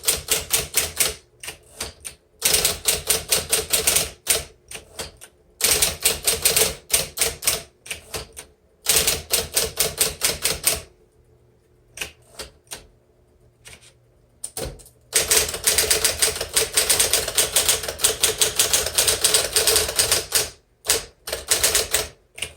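A 1959 Smith Corona electric typewriter types in quick, sharp clattering bursts of keystrokes, loud and close, separated by short pauses and occasional single clacks, with no talk.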